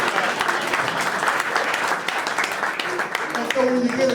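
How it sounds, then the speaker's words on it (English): Steady applause from an audience fills the room at a golf outing event, with a voice starting to speak near the end. "Can I get a hand clap on that?"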